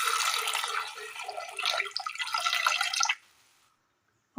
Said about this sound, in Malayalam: ഇതിലേക്ക് ഒരല്പം വെള്ളം ഒഴിച്ചു കൊടുക്കാം.